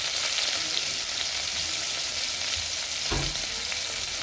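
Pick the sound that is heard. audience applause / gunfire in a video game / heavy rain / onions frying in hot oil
onions frying in hot oil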